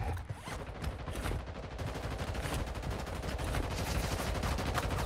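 Dense, continuous automatic gunfire from the Warzone Mobile game on an iPad Pro M2 rattles on without pause at a moderate level, with no talk over it.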